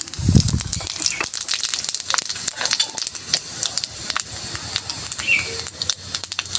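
Panch phoron spices sizzling in hot mustard-style frying oil for a tangra fish curry, a dense steady crackling hiss throughout with sharp popping bursts, loud and close, with no talk over it.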